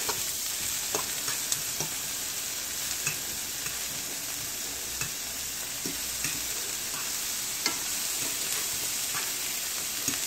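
Shrimp sizzling in a hot pan as they are turned, a continuous close frying hiss punctuated by scattered pops and light scrapes, without any talking.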